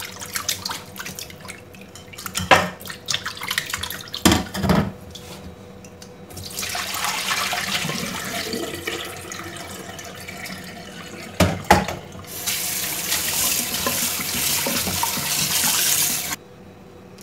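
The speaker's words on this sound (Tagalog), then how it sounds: "lilinisan ko siya sa tubig" Tap water running over fresh anchovies being rinsed for kinilaw, with bursts of splashing and a steady rushing stream broken by short pauses and sharp knocks and handling noises near the sink.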